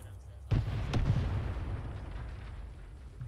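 Gunfire in the military video game ArmA 3: a sudden loud deep boom and crack, followed by a couple of further shots and a long rumbling decay.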